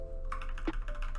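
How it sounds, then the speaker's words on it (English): Several light, quick taps of computer keyboard arrow keys clicking close to the microphone over a faint steady hum, with no talking. "We're going to move that with the arrow keys"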